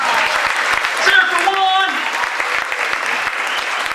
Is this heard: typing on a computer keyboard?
no